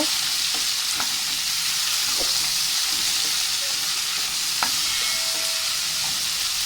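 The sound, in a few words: onions, tomatoes and curry leaves frying in oil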